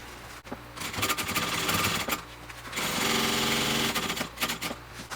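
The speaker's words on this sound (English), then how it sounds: "I'm going to stitch down until my pocket's closed" A sewing machine stitches a backpack pocket closed in two loud, close bursts of rapid mechanical needle chatter, split by a short pause and ending with a brief stop, no talking.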